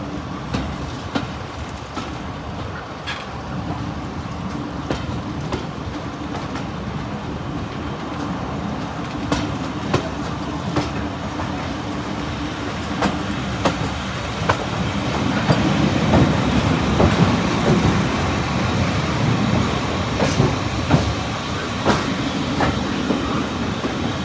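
Train running into Bridgnorth station on the Severn Valley Railway during a diesel festival, a steady loud rumble with rhythmic wheel clicks over rail joints, growing slightly heavier toward the end.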